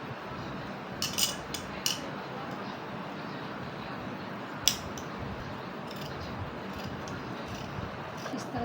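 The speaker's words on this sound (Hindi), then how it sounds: "तो फिर मैं इसकी कटिंग कर देती हूँ" Scissors snip through silk fabric together with its lining, a few short crisp cuts and a clink against the table, quiet and close while someone talks.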